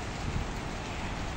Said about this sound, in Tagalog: Umuulan na dito sa Kuwait.